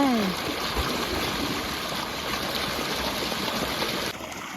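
Strong, continuous rushing water pours steadily from two irrigation pump outlets into a waterlogged wheat field, a dense, even gush close by with no pauses.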